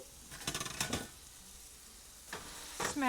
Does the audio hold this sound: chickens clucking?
no